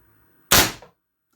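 A single sharp pop from a .38 caliber CO2-powered Nemesis air pistol, one loud close shot with a quick hiss and short decay, otherwise silent.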